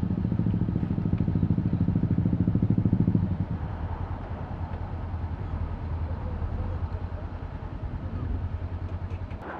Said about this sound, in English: Loads of bikes.